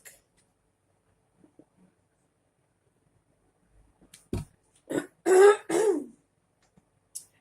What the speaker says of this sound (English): Definitely have to keep clearing my throat.